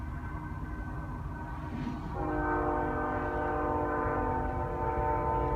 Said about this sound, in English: Oh, here comes another train through already.